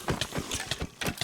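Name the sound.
horse hooves clip-clopping in Minecraft video game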